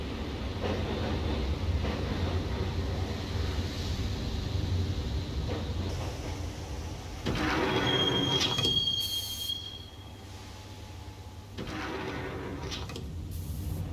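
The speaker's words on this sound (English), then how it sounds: "the train doors had already shut behind me, and I was in for the ride" A subway train in Max Payne rumbles along the rails with a steady low drone, broken by squealing wheel screeches and clanking bursts as the car rocks and slows.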